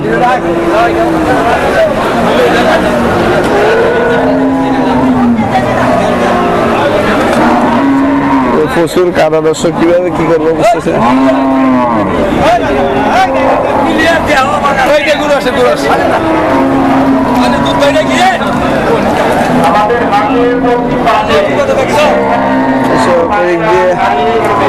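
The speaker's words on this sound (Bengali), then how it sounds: "আরেকটা গরু দেখতে পাচ্ছি" Dairy cows low at the Kalampur cattle market, their moos rising repeatedly through a steady crowd hubbub while someone talks close by almost throughout.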